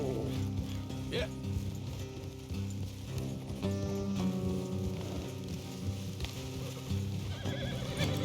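A horse neighs a few times amid Red Dead Redemption 2 game ambience, with hooves clopping and a low musical bed underneath.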